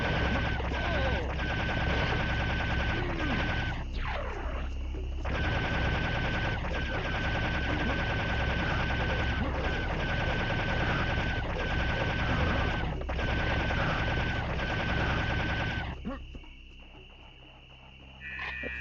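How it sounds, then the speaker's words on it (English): Laser cannon in Serious Sam: The First Encounter, Karnak level, firing in a loud, sustained rapid stream of zapping shots that carries on for about fifteen seconds, then cuts off and leaves quieter game ambience. "Okay, time to switch to the laser cannon here."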